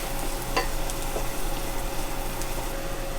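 Seafood saffron cream sauce sizzling steadily in a pan as it is stirred, with a continuous close frying hiss and a few faint scraping strokes, no voices.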